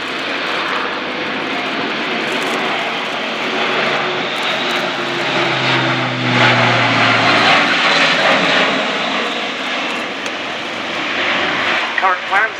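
Airbus A400M Atlas military transport flying a display at the Royal International Air Tattoo 2014, its turboprop engines producing a loud, continuous roar with a low droning pitch shift as it passes, with a crowd commentator talking over it.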